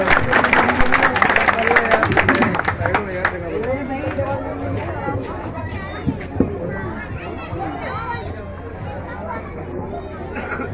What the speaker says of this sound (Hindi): तालियों से स्वागत साथियों